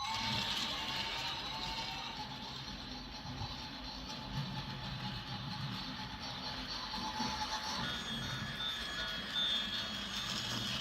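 A small motor hums and whirs steadily with a faint rhythmic rattle as a model train circles its track around a winter village without a break.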